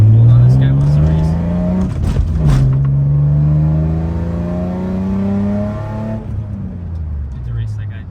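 A car revs hard and surges past, its engine note climbing and falling in pitch as it accelerates by, with a driver talking over the steady road noise inside another vehicle.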